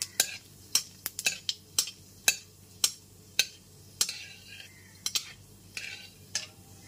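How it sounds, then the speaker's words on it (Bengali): Nigella seeds and a dried red chilli fry in hot oil over a low gas flame as a tempering, with sharp, irregular crackles and pops standing out against a quiet, faint sizzle. "এরপর এর মধ্যে ফোড়নে দিয়ে দিচ্ছি 1 টিস্পুন কালো জিরে আর একটা শুকনো লঙ্কা"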